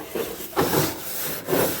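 Rust is scraped off the body of a 1980 Chevy 4x4 truck. Three rough back-and-forth scraping strokes sound close and fairly loud, each about half a second long, with no talk.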